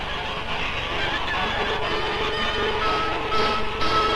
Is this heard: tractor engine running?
no